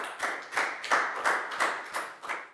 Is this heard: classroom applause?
yes